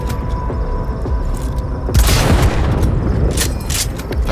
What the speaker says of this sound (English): I saw a grenade go up there.